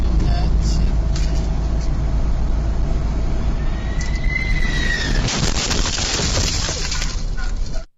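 A plane wheel crashes into and flips a bakery delivery driver's car on a roadway, heard as a loud sustained rumble with a sharp chaotic burst of crashing and scraping in the latter half, ending abruptly.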